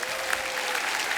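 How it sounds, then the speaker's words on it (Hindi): A studio audience on The Kapil Sharma Show claps for the guests, a brief burst of dense, even applause from a crowd. "एक बार हमारे मेहमानों के लिए जोरदार तालियां हो जाएं।"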